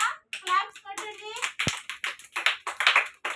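Anganwadi children clap after a story, a quick, uneven patter of small hands close by, with a few childish voices mixed in.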